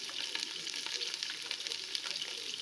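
Slit green chillies hit hot oil with spluttering mustard seeds while making masala rice, giving a close, steady crackling sizzle that stays loud and even throughout with no voices.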